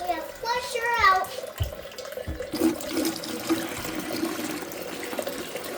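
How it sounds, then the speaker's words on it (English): Water is poured into a Primo water cooler to flush it out, a steady splashing gush into the tank that runs for several seconds, with a voice speaking over the start. "Time to pour some more water in it and flush her out."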